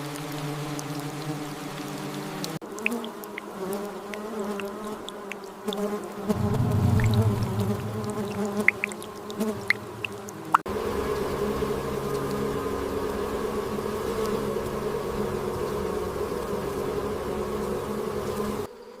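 Wild bees buzz in a steady, dense drone that carries on throughout, with a few faint patters that could be raindrops around them.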